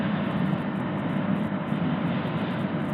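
A Honda Giorno scooter at full throttle climbs a steep hill. Its engine gives a loud, constant drone blended with heavy wind roar, steady and unbroken.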